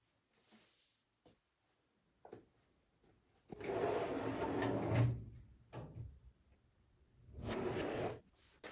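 Drawers of a workshop tool cart slide open and shut several times, with long rolling metal scrapes and soft thuds, close and clear with quiet gaps between.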